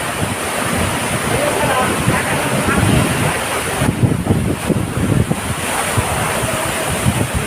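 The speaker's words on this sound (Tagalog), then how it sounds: "Wow, sobrang lakas ng hangin." Loud, gusty wind roars across the microphone at Taal Falls, buffeting continuously over a rushing, surf-like background.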